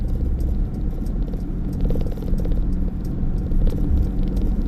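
A 2021 Mercedes-Benz Sprinter 314 CDI Luton van with a 2.1 diesel and six-speed gearbox circles a roundabout at an M1 junction, giving a steady low cabin rumble of engine and road noise with faint rattles throughout.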